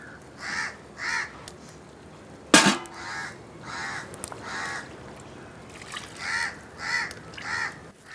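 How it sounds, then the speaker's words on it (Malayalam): Crows caw repeatedly outdoors in Kuttanad, harsh calls arriving in spaced pairs and clusters, fairly near and clear, with a sharp clatter midway and quiet background sounds between calls. "കാക്ക പൊക്കോ"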